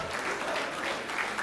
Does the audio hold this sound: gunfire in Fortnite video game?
no